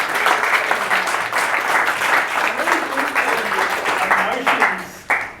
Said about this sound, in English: Ladies and gentlemen, please a round of applause for all our